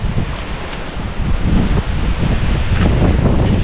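Strong habagat monsoon wind gusts over a fishpond, a loud, continuous roar of buffeting air with low rumbling surges that strengthen partway through.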